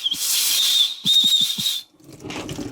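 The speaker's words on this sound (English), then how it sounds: "This one has a whistle built into it." Loud, shrill whistle blasts from a whistle built into a paracord bracelet, a long one then a second, with short breathy puffs, close to the microphone, ending in a rustle.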